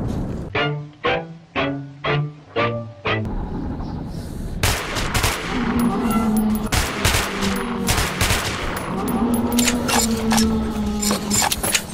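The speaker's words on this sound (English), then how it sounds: "There's some gunshots." Gunfire in Metro 2033 Redux: a few spaced single shots, then a rapid burst of sustained automatic fire with ringing, metallic echoes.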